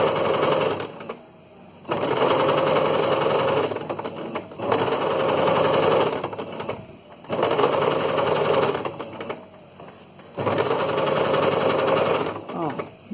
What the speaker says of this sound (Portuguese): Faço um retrocesso